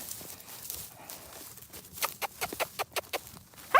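A horse on a farm gives off a quick run of sharp, evenly spaced knocks like hoof clops, close and moderately loud over a quiet outdoor background, ending in a louder burst.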